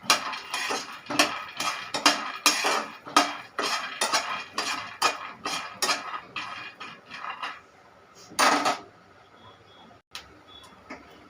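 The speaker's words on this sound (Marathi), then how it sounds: "आता आपण यामध्ये शेंगदाणे शेंगदाणे पण छान असे भाजून घ्यायचे आहेत आपल्याला" Peanuts are dry-roasted on low heat in a pan for flaxseed chutney, stirred with a utensil. It gives a quick run of rhythmic scraping and clinking strokes that thins out near the end.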